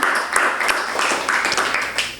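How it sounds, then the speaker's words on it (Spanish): Church congregation applauding during a Spanish-language sermon, a dense, steady wash of many hands clapping at close range with slight swells, no voices over it. "Démosle un aplauso a nuestro Rey."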